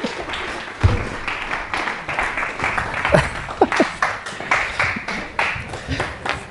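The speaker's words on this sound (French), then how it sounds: "Applaudissez-le chaleureusement, même si nous ne sommes pas nombreux." Sparse, scattered clapping from a small group, a few distinct claps standing out over a light background murmur.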